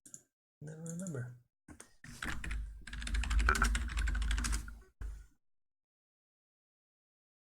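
Close, loud typing on a computer keyboard comes in rapid bursts of clicks for a few seconds, with a short spoken phrase at the start and silence after the typing stops.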